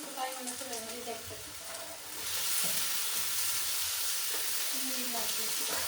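Tomatoes frying in a pan in a home kitchen, with a steady close sizzle and hiss that swells louder about two seconds in and holds, with faint stirring and occasional soft voices underneath.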